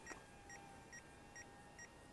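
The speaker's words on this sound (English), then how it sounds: "I'm getting beeping from the transmitter, so I'm not sure if the flight battery is getting low." A FlyBear FX935 F-35 Lightning RC jet's transmitter sounds a low-battery warning as a series of faint, evenly spaced double beeps, about four in two seconds, over a hissy background.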